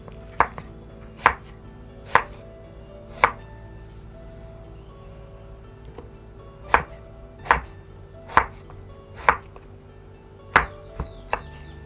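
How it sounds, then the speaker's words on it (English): Onions are chopped with a knife on a board in a home kitchen, with about a dozen sharp, distinct knocks arriving in irregular clusters against a quiet background. "So I've already chopped my onions"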